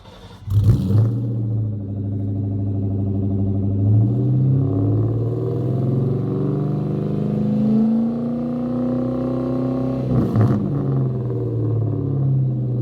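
A 2004 Mustang Cobra with a Borla Stinger catback exhaust idles with a deep, loud rumble, a sharp blip of revving near the start and another near the end, the exhaust note swelling and settling between them.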